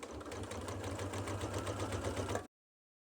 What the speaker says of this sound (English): grab my sewing machine out and finish this cover down the side seams